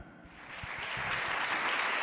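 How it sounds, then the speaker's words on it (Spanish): A church congregation claps for the Lord during a sermon, the applause swelling from a few scattered claps into a fuller, steadily building round of clapping. "Dale un fuerte aplauso al Señor en esta tarde"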